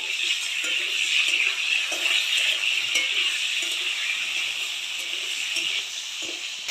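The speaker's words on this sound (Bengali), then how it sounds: "মা এখন আলুগুলো দিয়ে দিচ্ছে আর ভেজে তুলে নেবে" Potatoes frying in a pan, a steady bright sizzle that holds loud and close throughout, with occasional faint clinks of a utensil against the pan.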